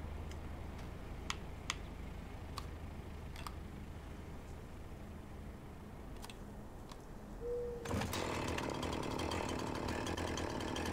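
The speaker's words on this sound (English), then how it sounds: "Turn chainsaw." A chainsaw in the Farming Simulator 19 video game, with quiet clicks before it starts, then a loud, steady buzzing motor roar that runs to the end.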